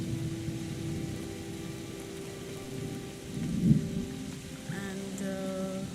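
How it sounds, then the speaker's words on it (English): Rain and a thunderstorm in the video game SEASON: A letter to the future, with steady rainfall, a low rumble of thunder that swells in the middle, and a few faint tonal game sounds toward the end. "it seems like it's a rainy season here on this area or on this part of the world."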